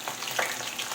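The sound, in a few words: tilapia frying in a pan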